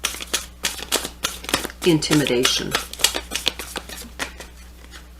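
Tarot cards being shuffled by hand, a run of quick papery riffles and taps with a brief louder burst partway through, heard under a person talking.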